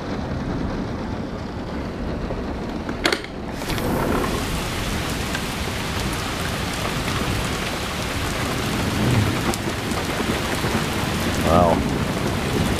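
Steady heavy rain pours down outside a sunroom during a thunderstorm, with one sharp, loud thunder crack early on and softer rumbles later, the downpour continuing throughout without talk.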